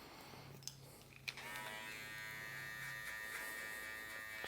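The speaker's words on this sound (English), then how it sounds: "you've got the clipper angled right under, or right over, so that the teeth flick up and underneath the hairs" An electric hair clipper hums and buzzes steadily close by while cutting hair during a burst fade mullet barber cut, with small scraping shifts as it moves through the hair and no talking.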